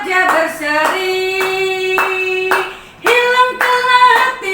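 Children clap their hands along with a sung Indonesian worship song at an elementary school morning service, steady claps mixed under the close, continuous singing voices.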